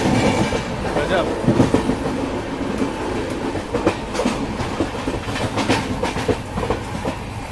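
Wheels of the 12505 North East Express clatter rhythmically over rail joints on a monsoon day as the train nears New Bongaigaon station. The rolling rumble is loud and steady, with repeated clicks and occasional squeal.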